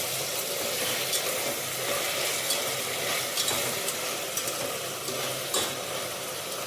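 Tomatoes fry in a pan for tomato rice, a steady close sizzle with occasional scraping stirs and light clinks of a utensil throughout.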